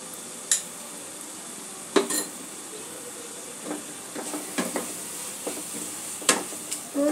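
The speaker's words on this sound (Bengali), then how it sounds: "একটু ভালো করে কষে নেব।" Spice masala for aar fish kalia cooking in a pan over low to medium flame, heard as a steady soft sizzle with sharp spatula scrapes and clinks against the pan at irregular intervals.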